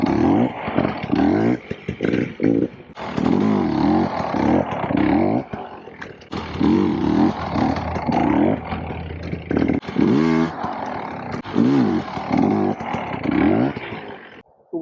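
Motorcycle engine during slow wheelie practice, loud and close, repeatedly revving and dropping back in uneven bursts with clattering mechanical noise between throttle blips.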